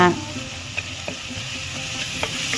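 Onion added to hot oil for a North Karnataka palya and stirred: a steady, close frying sizzle with occasional light clicks from the stirring.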